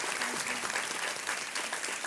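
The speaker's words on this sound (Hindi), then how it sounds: "एक बार फिर तालियों के साथ इनका स्वागत।" Studio audience applause welcoming guests on the TV quiz show Kaun Banega Crorepati, dense even clapping throughout with no speech.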